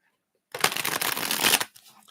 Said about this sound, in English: I'm going to shuffle the two decks here for all the free readings